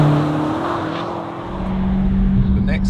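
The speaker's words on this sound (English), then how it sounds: "It does pretty good burnouts, as you would expect with a car that has this much power and this much torque" A BMW M5 CS doing a burnout, its engine droning at a steady high pitch that sags briefly and then climbs again, loud and close, with some speech-like sound mixed in.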